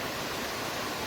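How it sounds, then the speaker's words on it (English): Virginia Hawkins Falls on the Foothills Trail, a continuous broadband roar of falling water heard close and alone for about a second. "This is Virginia Hawkins Falls."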